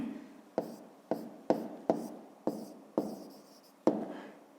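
Pen strokes on paper while working a fifth-grade maths exercise: seven or eight quick, crisp taps and scratches in an uneven rhythm, close and quiet, with no speech.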